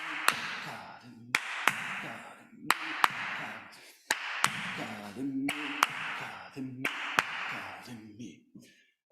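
Hand clapping in rhythm with a spoken drum-syllable count, sharp regular claps landing between stretches of chanted voice, close and distinct, repeating through the passage.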